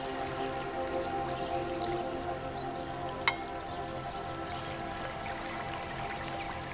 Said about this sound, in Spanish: Y entonces llenamos de agua, no hasta el borde